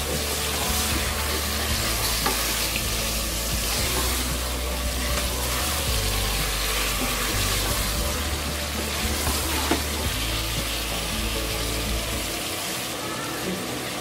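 Mutton pieces frying in a pan for karahi give a steady, dense sizzle with occasional stirring scrapes, continuous and fairly loud throughout, with no talking.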